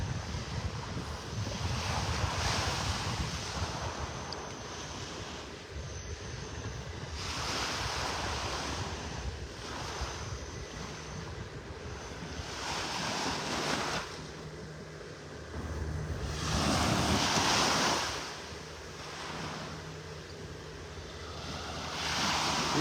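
Ocean waves on Vanderbilt Beach in North Naples, Florida, on a morning, rolling in as a steady, close surf roar mixed with wind noise, with louder swells breaking every few seconds.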